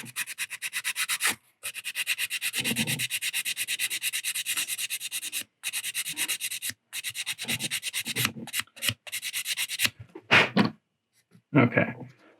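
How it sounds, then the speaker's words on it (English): A sanding stick rubs against a resin model kit part at the gate, producing rapid repetitive scratchy strokes in bursts broken by short pauses, close up with no talk. "I'm going to put a little sharpening, and I'm just going to lightly start with the sanding stick."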